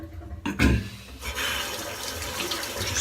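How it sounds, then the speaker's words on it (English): Tap water runs steadily while a shaving brush is rinsed out at a bathroom sink, a close, continuous gushing with a brief louder splash near the start. "Just rinse the brush out whilst this is drying on my face."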